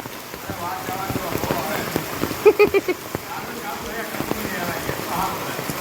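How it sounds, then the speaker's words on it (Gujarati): Heavy monsoon rain pours steadily outside a house facing a temple, a dense continuous patter with a few brief louder knocks near the middle and faint voices in the background. "જો સર્વત્ર વરસાદ આવે છે."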